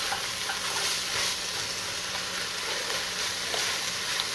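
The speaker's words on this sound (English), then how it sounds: "Get them all stirred around, covered in the garlic and the onion and the curry paste." Carrots cooking with garlic, onion and curry paste in a pot, a soft steady sizzle and faint stirring throughout, fairly quiet and even, without speech.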